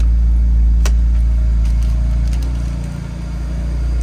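BMW Alpina B3 S Bi-Turbo engine running at a steady idle, a loud, deep continuous hum with a sharp click near the start and a slight dip in level toward the end.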